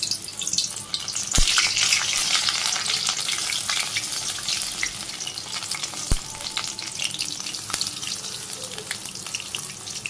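Bora fritters fry in a pan with a continuous crackling sizzle of hot oil, broken by a couple of sharp clicks of a utensil against the pan.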